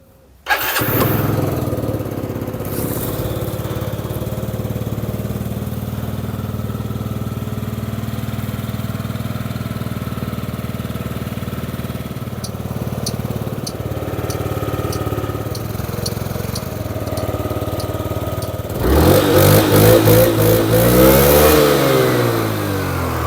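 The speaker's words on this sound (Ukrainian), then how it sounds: "Двигун працює на відмінно." A small Yamaha Jog 39ZR scooter engine idles steadily and loudly up close, then revs up sharply near the end with rising and falling pitch.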